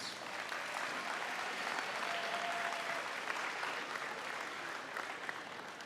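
Audience applauding musicians after a high school concert at an awards ceremony, a steady wash of clapping heard fairly faint and distant, sustained evenly for several seconds with no talk.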